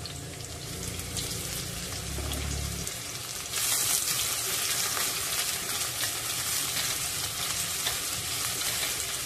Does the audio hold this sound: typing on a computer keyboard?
no